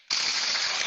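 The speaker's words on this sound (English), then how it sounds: "This is the sound of the food processor." A food processor bursts into a loud, harsh whirring roar, steady and close, lasting under a second after starting abruptly.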